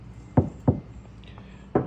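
Knuckle knocks on the door panel of a Tesla Model Y, three sharp, fairly solid raps with an uneven gap before the last, close up.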